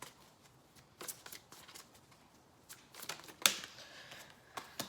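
A travel oracle card deck is shuffled by hand close up, producing a soft, quick run of riffling and flicking card sounds, quiet and alone, with no talk.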